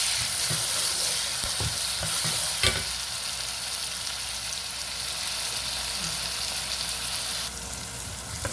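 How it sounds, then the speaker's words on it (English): Catfish ingredients with onions and pepper frying in a pan, a loud continuous hiss of sizzling oil with occasional scrapes and knocks of stirring, steady throughout with no voices. "Put them together and then stir."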